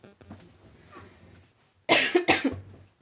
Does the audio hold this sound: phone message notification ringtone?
no